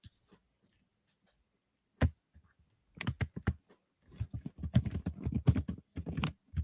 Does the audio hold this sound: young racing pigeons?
no